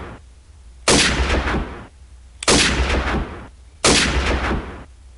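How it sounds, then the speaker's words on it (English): Three loud, close gunshot sound effects, each a sharp blast with a decaying tail about a second long, spaced evenly with brief quiet between them. "you have all the gun sounds and muzzle flares"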